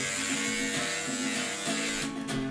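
An electric beard trimmer hums steadily and loudly right up close as it cuts through facial hair, its buzzing tone wavering slightly as it moves across the beard.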